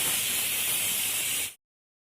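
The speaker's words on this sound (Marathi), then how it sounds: "आपण तुपात आलं आणि लसूण परतून घेणे." Ginger and garlic sizzle in hot ghee in a pan while being fried for spinach soup, a loud, close, continuous hiss that stops abruptly after about a second and a half, leaving silence.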